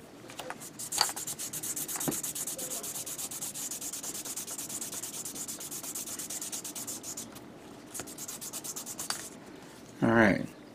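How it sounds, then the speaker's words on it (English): Steady back-and-forth sanding along the edges of a small plastic part from a 1/144 HG Gundam Leo model kit, a close, continuous rasping rub with a brief louder scrape near the end. "so sand this here at the edges"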